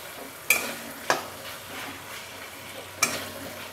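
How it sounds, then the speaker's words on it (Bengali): Catfish kalia masala cooking slowly in oil over medium heat, a soft steady sizzle broken by three sharp spatula scrapes against the pan, close up with no talking. "মিডিয়াম আছে, এটা আস্তে আস্তে কষাতে হবে"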